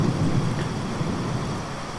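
Steady heavy rain hisses through a thunderstorm, with a low rolling rumble of thunder underneath.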